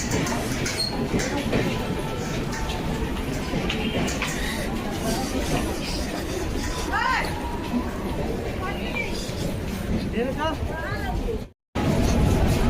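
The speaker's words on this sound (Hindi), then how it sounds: "देख लीजिए ये ट्रेन लगी है" A passenger train standing at a railway station between Ara and Patna, heard as a dense wash of rumbling platform noise and crowd babble, with voices talking close throughout.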